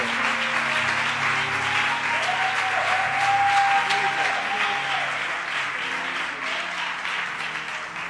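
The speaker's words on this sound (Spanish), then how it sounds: "Si tú lo crees, dale un aplauso al Jesucristo." A church congregation applauds steadily and fairly loudly throughout, a dense wash of many clapping hands with faint organ or keyboard tones sustained underneath.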